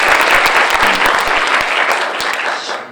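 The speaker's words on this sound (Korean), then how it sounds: "박수 한번 쳐주시겠어요?" Audience members at a political talk concert clap loudly and continuously, a thick, even roar of applause that stays strong before tapering slightly near the end.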